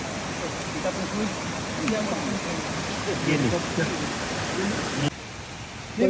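A natural river stream flows near Rangana fort on the Kolhapur–Konkan border, a steady broadband rush of water that holds an even level and dips slightly near the end, with faint voices mixed in.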